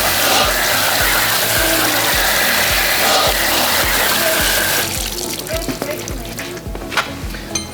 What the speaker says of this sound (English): So it's okay to take all that off and then wash it off.